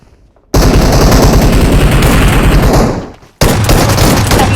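A grenade explosion in PUBG Mobile bursts in as a loud, dense roar of blast and gunfire-like crackle lasting about three seconds, cuts off abruptly, then surges again just as loud.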